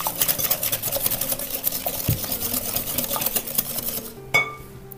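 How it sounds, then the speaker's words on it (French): Cake batter is whisked vigorously in a bowl, a fast, steady scraping rhythm close by that stops near the end, followed by a single sharp clink. "on va fouetter énergiquement comme d'habitude"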